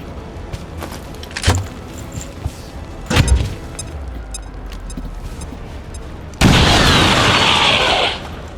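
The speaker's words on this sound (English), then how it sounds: "Frag out." A frag grenade detonates in the XCOM video game with a heavy low boom, followed by another thud and a burst of crackling debris noise.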